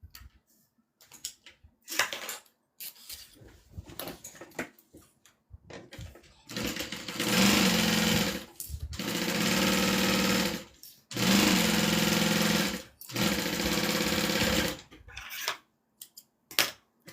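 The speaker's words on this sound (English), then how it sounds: "We're gonna put those right sides together and then sew them down." A sewing machine sews pieces of vinyl together with their right sides facing. Several sustained runs of loud, steady motorized stitching are broken by brief pauses, after quieter clicks and handling noises at the start.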